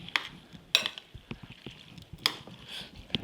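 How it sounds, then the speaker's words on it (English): Drained pasta is stirred in a bowl with quiet, close scraping and shuffling, punctuated by a few sharp utensil clinks against the bowl's side, no talking. "I'm putting the pasta in there, and of course stirring"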